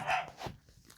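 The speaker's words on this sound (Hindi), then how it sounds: "कुत्ता भौंक रहा है रे" A small dog gives a couple of quick, fairly faint yaps within about a second, with no one talking over them.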